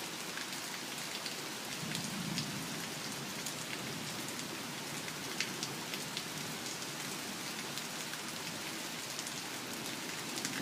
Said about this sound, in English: A lot of good heavy rain.